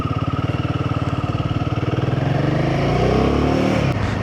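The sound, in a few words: motorcycle engine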